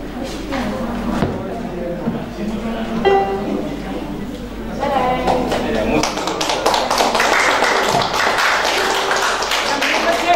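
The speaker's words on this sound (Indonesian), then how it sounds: "Jangan pelit-pelit tepuk tangannya." Clapping from the audience at a 2020 BWA graduation ceremony in Jakarta, fairly close and building louder in the second half, with a person speaking over it in the early part.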